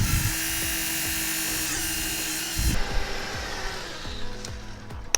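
A GAYK solar pile driver lowers its hammer with a steady whining hydraulic drone and repeated knocking clicks, the drone cutting off abruptly partway through before lighter clanks and mechanical ticks continue.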